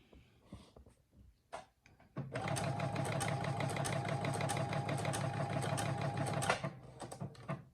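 A Brother SE1900 sewing machine stitches using its side sew feature: a few quiet clicks, then about four seconds of steady, fast, rhythmic mechanical chatter close by, stopping abruptly before more light handling sounds.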